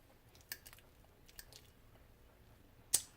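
Close, quiet chewing of a big mouthful of blackened shrimp pasta, with a few soft wet squishes and bites spread across a few seconds and a sharper smack near the end.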